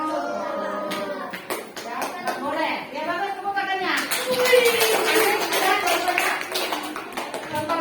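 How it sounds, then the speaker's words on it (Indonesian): Schoolchildren applaud in an elementary school classroom, a sustained burst of crowded clapping rising midway and continuing loudly, with a teacher's voice and children talking over the start. "bagus tepuk tangannya ya"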